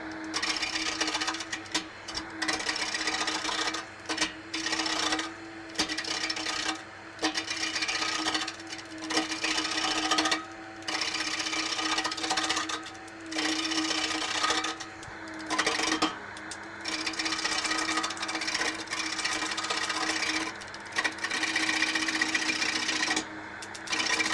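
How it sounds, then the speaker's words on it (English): A wood lathe spins in a workshop, its steady whirring broken by frequent short dips and bursts as the tool bites the turning workpiece, continuing without pause for talk. "Never move your tool rest with the lathe turning."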